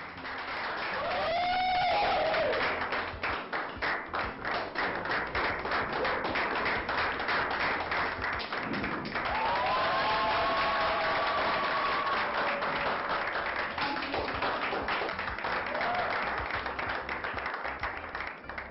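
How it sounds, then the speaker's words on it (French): A crowd applauds the crowned winner of a beauty competition, steady sustained clapping for most of the stretch, with brief musical tones and faint voices rising over it. "S'il vous plaît, encore plus d'applaudissements pour notre gagnante"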